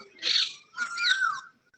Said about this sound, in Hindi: देखो कोयल भी बोल रही